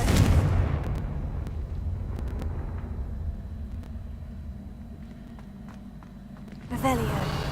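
A Confringo blasting spell explodes in the wizarding game Hogwarts Legacy, a loud burst at the start fading into a long low rumble, followed by a second, smaller blast near the end, with speech in the background.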